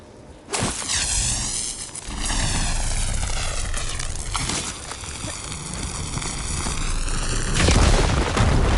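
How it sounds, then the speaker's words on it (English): A firegleam crystal blasting apart in Horizon Forbidden West, a loud booming explosion with rumbling debris and rising whooshing tones that swell and sustain for several seconds, growing heavier toward the end. "Should be able to blow up that fire gleam."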